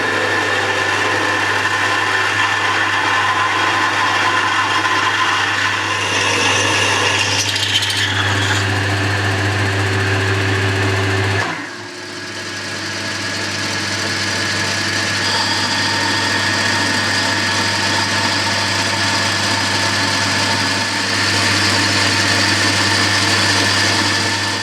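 A metal lathe bores out a hole in a headstock handle part to take a tapered nut, giving a steady, continuous machine hum and whine that dips briefly about halfway through before resuming.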